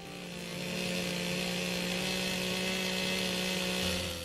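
Power tool running steadily on a timber girder of the approach span of the 1904 steel truss Luskintyre Bridge over the Hunter River, a continuous droning whine with a stable pitch, loud and close for the whole stretch.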